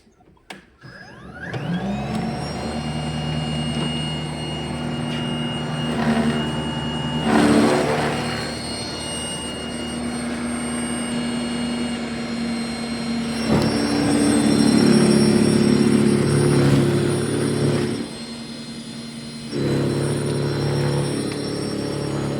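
An EGO Power single-stage snowblower with a steel auger starts up and whirs loudly and steadily while clearing heavy, compact snow, its pitch dipping and swelling as the load changes.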